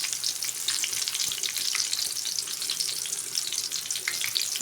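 Tofu frying in a pan, a steady dense sizzle and crackle of hot oil filling the whole stretch with no one talking.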